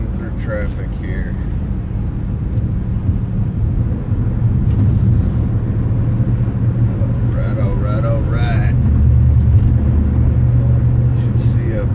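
A car moves through road traffic, its steady engine and tyre rumble filling the interior with a low drone that swells slightly as it picks up speed; someone speaks briefly over it.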